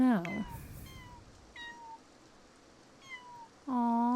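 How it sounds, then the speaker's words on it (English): Kittens meowing in The Sims 4: a few short, high meows scattered across a quiet backdrop, the last one louder and closer. "Aw, the little meows."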